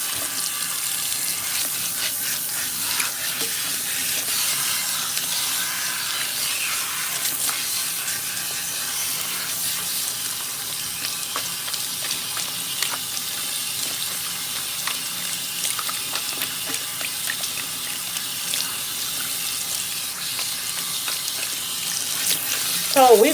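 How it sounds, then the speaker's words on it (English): Warm water running steadily from a salon tap while hair is rinsed, a constant hissing spray that stays fairly loud and even from start to finish. "we're going to use warm water and go ahead and rinse her"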